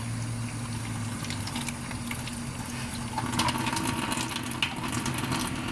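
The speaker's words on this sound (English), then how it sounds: "I'm going to rinse with water" Steady running water splashes and trickles continuously over a lobster tail being rinsed, with occasional light knocks and handling noises close by.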